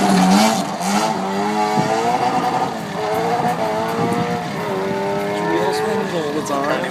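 Historic rally car at Donington threading through a chicane, its engine revving and shifting pitch through the corner close by, with faint tyre squeal.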